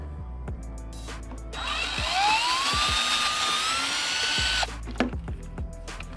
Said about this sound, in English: I'm gonna drill a small hole through.